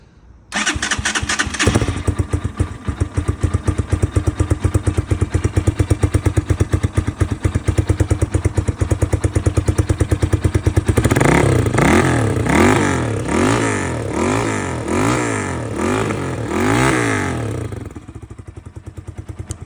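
A Geon Scrambler 250 motorcycle engine cranks and starts, settles into a steady, loud idle thumping, then is revved repeatedly in rising and falling bursts, close to the microphone with no talk.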